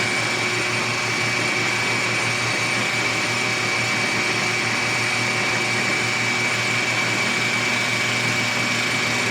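A lathe facing off a metal cam shaft gear for a Subaru Impreza runs with a loud, steady motor drone and a continuous high-pitched whine, with no pauses.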